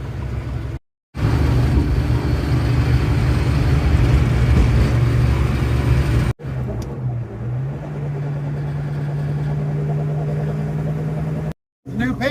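A Ford Mustang cruising on the road, with a steady loud engine drone and rumble throughout, a brief dropout near the start and a shift to a lower idle-like hum partway through.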